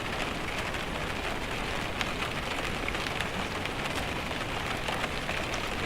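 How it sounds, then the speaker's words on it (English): Steady rain falling on a cold, wet October day, a dense, even hiss of drops on surfaces that holds constant throughout with no voices. "a cold, wet, rainy October day like today"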